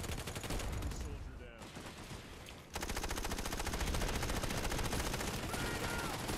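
Sustained automatic gun firing in the video game Planetside 2, dense rapid shots with a brief drop in the middle and then a loud, steady stream of fire through the rest.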